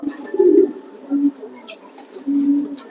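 Male pigeons coo in soft, low, throaty bursts, three or so close rumbling calls with short gaps, accompanied by a few faint clicks and rustles.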